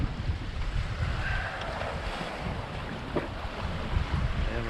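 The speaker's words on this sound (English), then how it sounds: "we're sailing dead downwind. 14 knots, 16 knots of wind." Steady wind rushes across a yacht sailing dead downwind in 14 to 16 knots of wind on the open ocean between Hawaii and Canada, with water swishing along the hull, continuous and moderately loud, no voices.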